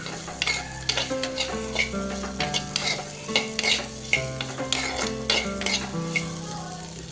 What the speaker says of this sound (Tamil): இப்போ நல்லா ஃப்ரை பண்ணிக்கலாம் அந்த ஆயிலே ஒரு ஜஸ்ட் ஒன் மினிட்டுக்காச்சும் நல்லா ஃப்ரை பண்ணிகிட்டே இருக்கலாம்